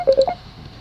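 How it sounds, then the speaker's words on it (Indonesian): A phone sounds a short electronic alert for an incoming call, three quick clear beeping tones in a row, loud and close, then a fading tail. "ada yang telepon lagi"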